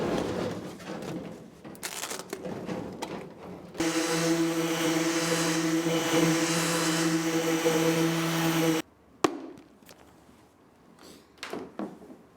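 An electric sander works over the epoxy resin hull of a canoe, running as a steady, fairly loud whirring drone for about five seconds. Scattered knocks and scrapes come before and after it.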